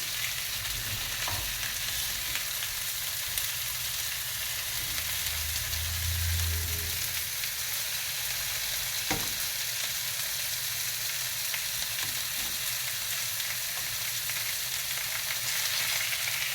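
Potatoes fry in a pan for a potato frittata with a constant loud hiss of hot oil while occasional scrapes and taps mark them being turned.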